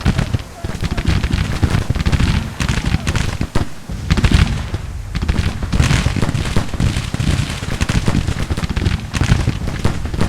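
Troops in a Union–Confederate battle in the Grand Tactician strategy game fire their weapons, producing a loud, continuous crackle of overlapping gunshots and booms that lasts throughout.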